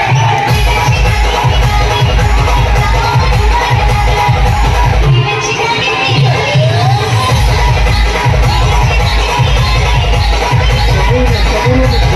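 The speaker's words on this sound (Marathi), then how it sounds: "त्याच्यासाठी जरा जोरदार टाळ्या" A large crowd claps and cheers loudly for a national kabaddi player, dense and continuous throughout with scattered shouts mixed in.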